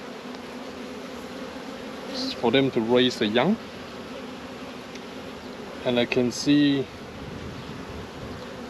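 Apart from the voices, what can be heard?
honeybees buzzing at an open hive frame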